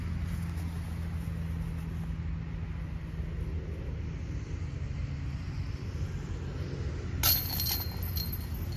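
A disc golf putt is tapped into the metal basket chains at Lenora Park, giving a brief bright chain clink near the end that stands out over a steady, low outdoor rumble.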